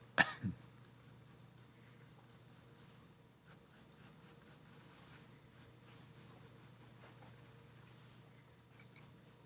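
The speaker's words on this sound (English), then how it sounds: "Again, just using a sharp pencil." A sharp graphite pencil scratches across paper in a series of quick, faint strokes with brief pauses, close and soft, after a short louder knock at the start.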